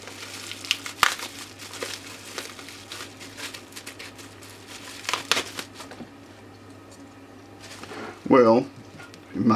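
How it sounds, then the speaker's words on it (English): A packaged power supply is unwrapped by hand, bursts of crinkling plastic and rustling packaging coming in irregular handfuls, close up, with a louder crackle near the end. "let's just unwrap it"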